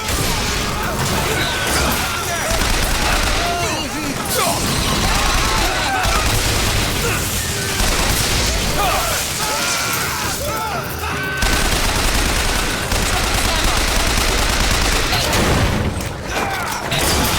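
Dense, continuous gunfire from a turret in the Bioshock Infinite video game, loud and sustained with crashing impacts, booms and bursts of speech layered over the battle.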